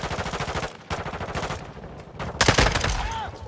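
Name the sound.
FSS Hurricane gun firing in video game MWII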